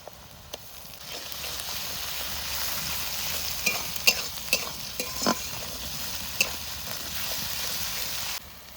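Ginger and garlic paste sizzles with onions in a hot pan, a steady broadband frying hiss running throughout with scattered sharp crackles and spatula clicks, close and fairly loud, ending abruptly.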